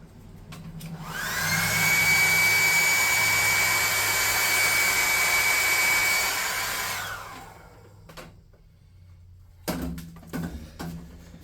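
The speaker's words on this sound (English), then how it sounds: "We're going to blow dry this real quick." A hair dryer blows steadily and loudly for about six seconds to dry paint on a small miniature anvil, then cuts off, followed by faint handling noises and a brief clatter near the end.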